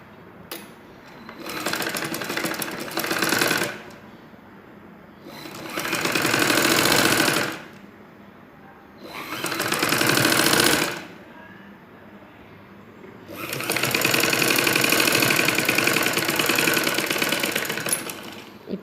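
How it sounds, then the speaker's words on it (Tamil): Sewing machine running invisible stitching along a blouse seam in four loud, close bursts of rapid needle chatter, separated by short quiet pauses, with the last run the longest. "அதே மேலேயே அது மேலேயே ஸ்டிச் போட்டுகிட்டே வரணும்"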